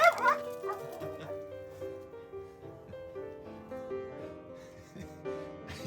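A dog barks and yips eagerly as it runs out a door, loud and close at first, then trailing into softer whimpering yelps over a busy tonal background.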